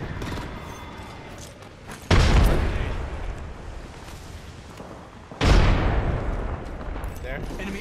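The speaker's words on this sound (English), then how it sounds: "Grenade out!" Two heavy booms of grenade explosions in Apex Legends gameplay, each a sudden loud blast that decays over a few seconds, with scattered gunfire crackling between them and a player talking throughout.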